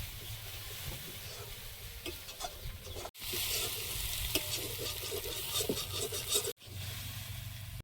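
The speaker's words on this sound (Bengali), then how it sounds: "আলু আর সয়াবিন একসঙ্গে আরো ভালোভাবে ভেজে নেব" Potatoes and soybean chunks fry together in a pan, a soft sizzle with repeated scraping stirs and brief breaks in the sound, quiet and close.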